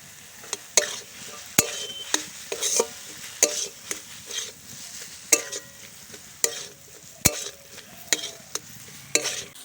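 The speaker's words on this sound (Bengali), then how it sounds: "সব মশলাগুলো দিয়ে খুব ভালো করে আমি নেড়ে চেড়ে নিয়েছি" A spatula stirs potato and banana flower with ground spices in a pan, giving about a dozen sharp scraping clacks at an uneven rhythm over a faint sizzle, close by with no talking.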